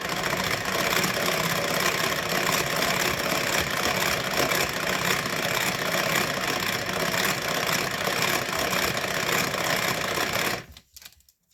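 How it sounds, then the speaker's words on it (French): Homemade mayonnaise being beaten with a Tupperware Duochef hand whisk, a steady, loud, fast mechanical whirring and clatter that runs without pause for about ten seconds before stopping abruptly. "Encore quelques petits tours de fouet et ce sera bon."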